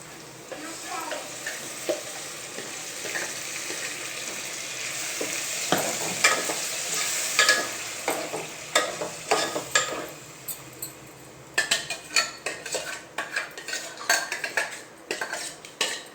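Spiced masala paste frying in a pan for pulao, with ginger-garlic paste added, and a spoon repeatedly scraping and stirring; steady sizzling gives way to sharp, closely spaced metal clinks near the end, close and fairly loud, with no talking.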